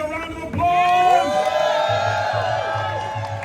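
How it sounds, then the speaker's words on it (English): A crowd at an outdoor No Kings political rally whoops and cheers after a speech, with rising shouted voices and some clapping that stay loud and then continue more loosely. "give the Deputy Speaker a round of applause"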